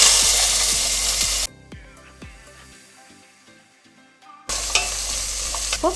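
Onion and green chilli sizzle loudly in hot oil with a spoon scraping and stirring, the sizzle briefly dropping away before returning.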